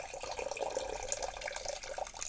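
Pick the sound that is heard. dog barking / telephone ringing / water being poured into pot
water being poured into pot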